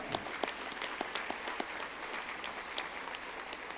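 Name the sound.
applause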